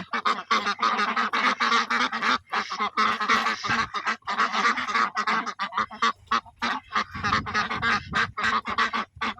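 A flock of egg-laying ducks kept in a pen on a farm, quacking and honking loudly and rhythmically in dense, overlapping bursts with brief pauses, close by.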